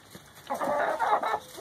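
Backyard chickens, including Buff Orpington and Americana breeds, cluck in a close, continuous run of throaty calls lasting about a second, with no talking.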